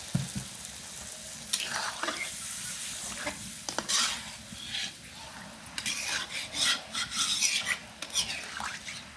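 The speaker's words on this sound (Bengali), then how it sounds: "এখন হালকা পরিমাণে ঝোল দিয়ে দিচ্ছি।" Broth added to half-cooked chicken frying in a pan, bringing a bright sizzle with scraping and stirring that swells and flutters toward the end, close by with no talk.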